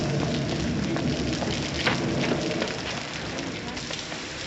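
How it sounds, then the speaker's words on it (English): Heavy rain pours onto surfaces in a steady, dense wash, loud and close throughout, with faint voices beneath it in an old film scene. "If it's raining worse, it's a sign it's nearly over."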